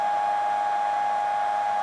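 A broken fan runs with a steady, loud mechanical hum and vibration, holding one unchanging tone without a break for about two seconds.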